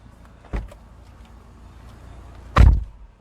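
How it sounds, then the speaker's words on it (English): Two MG Hector car door thuds: a lighter one first, then a heavy, solid slam about two seconds later, both close and punchy against a quiet background. "You do get the solid thud on this car when you close the door"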